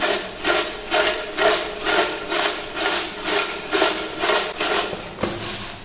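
Potato slices being tossed and mixed by hand with Kashmiri chili powder for crispy potato chips, a steady rhythmic rubbing and scraping that repeats about once per second, close and fairly loud, with no talking.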